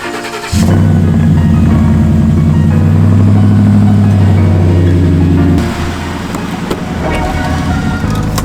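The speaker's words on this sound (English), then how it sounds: "let's get this cold start going." A lifted Ford Bronco on a 7-inch lift cold-starts with a sudden loud roar, then settles into a heavy, steady idle rumble that drops to a slightly quieter idle about five seconds later and continues close by.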